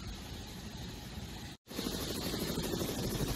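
A constant dull helicopter rotor-and-engine roar over the man-made islands off Dubai, with a brief cut in the middle, then the same drone returns slightly louder.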